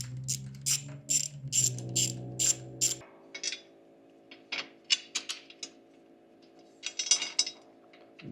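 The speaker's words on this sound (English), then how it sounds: "So we're taking these two bolts out right here." A ratchet wrench clicks in quick bursts while bolts are backed out of the valve cover on a MechMaxx B200 wood chipper's 35hp V-twin engine, close up, with short pauses and a low drone early on.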